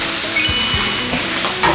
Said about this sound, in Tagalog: So, lagay naman po natin ang ating shrimp.